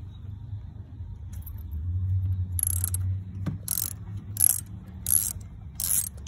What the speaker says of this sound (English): So we got a ratchet extension and a spark plug socket.